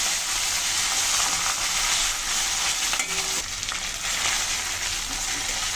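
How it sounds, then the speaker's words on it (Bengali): Ginger paste and cumin paste fry in hot oil, giving a steady bright sizzle with soft stirring scrapes and clinks, close and even throughout. "মশলাটা দিয়ে একটু ভালো করে কষিয়ে নেব।"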